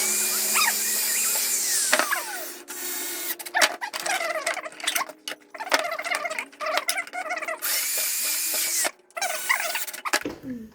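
Cordless power drill driving screws into a homemade wooden door, heard as repeated whirring bursts that rise and fall in pitch, with short pauses between drives and a brief thump near the end.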